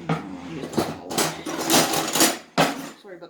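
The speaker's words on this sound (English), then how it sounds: "Sorry about the rattling. Let me get my utensils out." Kitchen utensils clatter and rattle in a home kitchen during baking, a run of metallic clinks and knocks rising and falling in bursts, close and fairly loud, with a brief pause before a final sharp clatter.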